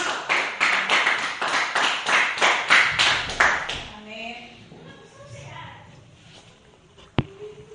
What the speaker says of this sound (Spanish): Den un aplauso a aquel que se merece el aplauso.